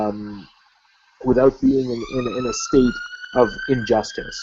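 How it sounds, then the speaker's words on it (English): A siren wails in the distance behind a speaker's voice, its high rising-and-falling tone running faint but steady under the talk for most of the stretch. "I apologize for the sirens in the background."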